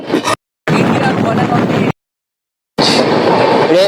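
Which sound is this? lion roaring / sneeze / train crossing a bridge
train crossing a bridge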